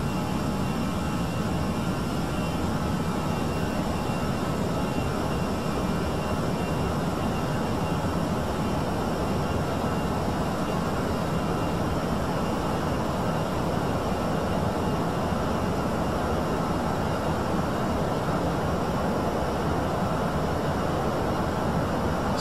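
Airliner engines climbing after takeoff in a flight simulator, a steady broadband roar with a constant hum, unchanging and loud throughout, with no talk over it.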